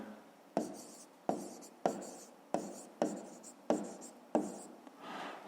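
A pen writes on paper while a fifth-grade maths exercise is worked out, giving seven sharp, evenly spaced strokes with short scratching tails, close and clear.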